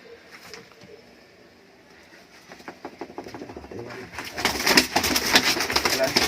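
Murshidabad giribaz pigeons coo softly while a person talks. The pigeon sounds grow louder and busier toward the end.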